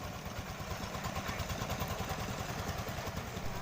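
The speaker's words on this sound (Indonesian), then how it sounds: "Yang kedua adalah hand traktor atau traktor tangan atau juga traktor roda 2." A two-wheel hand tractor's engine runs steadily at a fast, rhythmic chug with a rattling clatter, heard close and continuous with no pauses.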